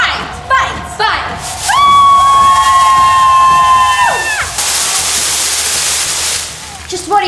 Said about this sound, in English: We're cheering.